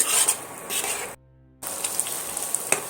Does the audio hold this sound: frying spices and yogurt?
yes